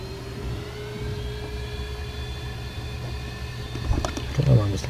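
An Airbus A320 taxis in the FSX flight simulator, its engines giving a steady low hum and whine that builds slightly toward the end with a few brief clicks and louder surges.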